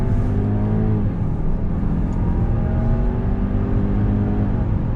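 A 2020 Range Rover Sport P400e Autobiography plug-in hybrid SUV accelerates under throttle, its engine note rising steadily in pitch, loud and close, with a shift partway through and no talk.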